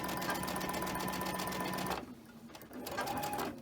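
A sewing machine stitching fabric straight across a quilt block, a fast, even whir of stitching for about two seconds, a short pause, then a brief second run.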